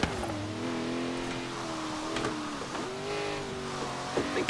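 A car drifts through a turn in Forza Horizon 3, its engine droning at steady high revs with shifting pitch as it slides. A few sharper tire and gear sounds break in near the end. Nobody speaks.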